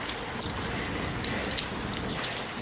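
Steady rain falls outdoors in a continuous, dense patter with scattered louder drops, no talk over it.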